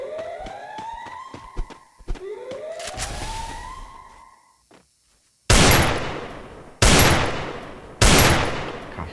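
Gunfire from an M1014 shotgun and a Desert Eagle in a video game: a rapid burst of sharp shots with ringing tails, a short pause, then three loud, evenly spaced heavy blasts close up.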